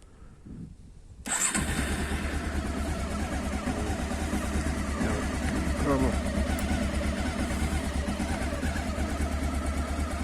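After a quiet moment, a Honda CB500 S motorcycle engine catches and settles into a steady, throbbing idle that carries on, close and fairly loud.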